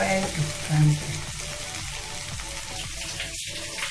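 Okra is stirred and sautéed in a kadai, producing a continuous watery frying hiss with a brief louder scrape near the start and faint clattering of the spoon.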